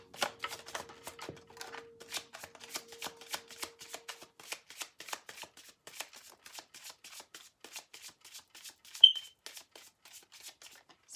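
A deck of tarot cards is shuffled by hand, giving a long run of soft, rapid riffling flicks at an even rhythm, close and quiet, with one sharper tap near the end and no speech.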